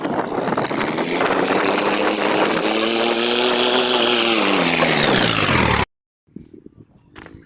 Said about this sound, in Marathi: तर करू आपण ट्रॅक्टर चालू मित्रांनो